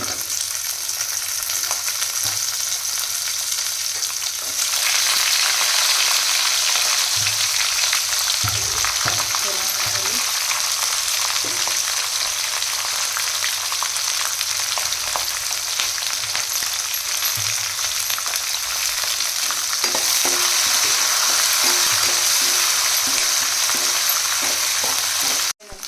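Sliced onions and dried red chillies frying in a pan for ridge gourd chutney produce a loud, steady hiss and sizzle close by, with occasional stirring knocks, and it gets stronger after a few seconds, with no one talking.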